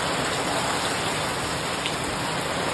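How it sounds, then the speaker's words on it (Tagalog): Very heavy rain pours down steadily in a flooded seaside area, a dense, unbroken hiss that stays loud from start to finish with no voices heard. "tapos napakalakas ng ulan"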